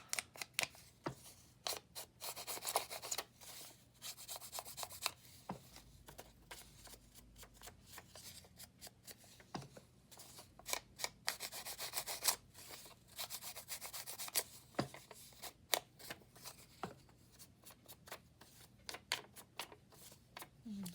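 Paper being handled for a Christmas junk journal, with repeated dry rustling, rubbing and ripping bursts scattered through the stretch, fairly close and moderately loud, with brief soft talk.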